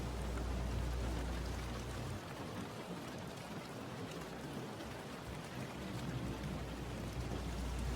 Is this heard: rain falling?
yes